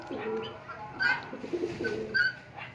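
Pigeons kept for breeding and sale coo softly nearby in low, throaty, repeated murmurs, with a few faint higher notes over quiet background.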